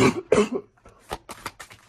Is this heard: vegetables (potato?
no